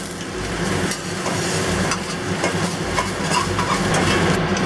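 Cooked minced chicken is scraped and stirred out of a hot pan, a continuous sizzle with scraping and clattering of the utensil against the metal throughout.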